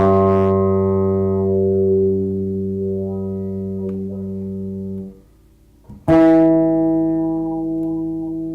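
A sustained note on a 1975-1976 Alembic 5-string electric bass, with a bright, boosted tone, rings out and fades, followed by a brief pause and a second hard-struck note.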